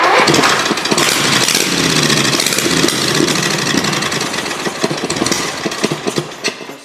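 A V-twin chopper motorcycle engine with a faulty fuel pump sputters and runs roughly for a few seconds, loud and close, then falters into uneven pops and dies away.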